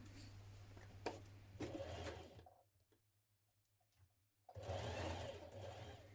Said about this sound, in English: we're now going to sew through all 3 layers like this